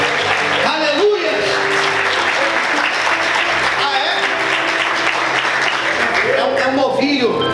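A church congregation breaks into loud, lively applause during an evening service, dense clapping throughout with voices and cheering mixed in over it.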